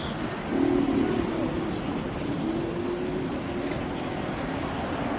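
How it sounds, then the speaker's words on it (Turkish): A Ford Ranger pickup truck speeds past a cyclist on a city street in Çiğli, İzmir, its engine swelling briefly and loudly close by before fading into steady traffic and wind noise. "Ranger yanımızdan çok hızlı geçti."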